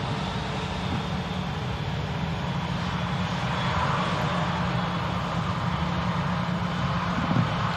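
EasyJet airliner on its takeoff roll at Manchester Airport, a steady, broad engine roar heard from a distance, building slightly without any speech over it.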